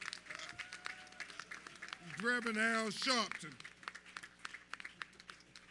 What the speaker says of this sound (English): Y'all give a big round of applause for our national civil rights leader